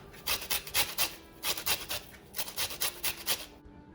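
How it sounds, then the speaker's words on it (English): Lemon zest is grated off a lemon in quick rasping strokes, a close, soft scraping repeated in short bursts of three or four strokes with brief pauses between. "Then I will add zest of 2 lemons"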